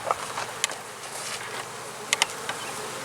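Honeybees buzz outside a strong hive, a dense, steady hum of many insects with individual bees zipping close past now and then, no talking.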